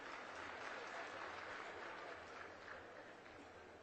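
Sustained audience clapping at a farmers' conference and aid distribution ceremony, fairly even and continuous, easing slightly toward the end.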